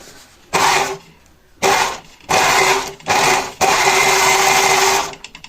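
An overlocker-style sewing machine overcasts the raw edge of denim jeans being hemmed, running in five loud bursts of rapid whirring stitching separated by short pauses, the last run longest, with no talk.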